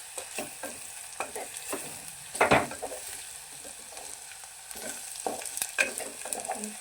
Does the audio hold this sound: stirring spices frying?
yes